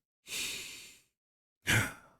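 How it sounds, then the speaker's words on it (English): Two deep, slow breaths sound close to the microphone: a long airy exhale, a pause, then a stronger, fuller sigh-like breath that fades out. "I'm breathing with you because I need this message just as much as you do right now"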